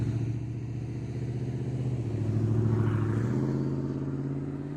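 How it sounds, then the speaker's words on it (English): A truck idles and pulls up nearby, a low rumbling engine whose pitch steps up as it moves and swells slightly louder before easing off, heard alone without talk. "So we got a truck pulling up here."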